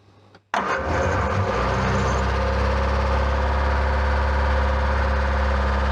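1966 Triumph Spitfire engine cranking briefly after a click, then catching and settling into a steady, loud close-up idle that runs to the end.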